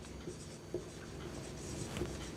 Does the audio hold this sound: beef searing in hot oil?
no